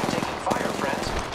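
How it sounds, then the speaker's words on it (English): Rapid automatic gunfire rattles through a video game match, loud, dense and continuous, nearly filling the short moment. "I am taking fire, friends."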